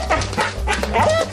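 A Border Collie on a Turkish TV show set gives a few short yips and whimpering barks close by, in quick bursts that are loud and clear.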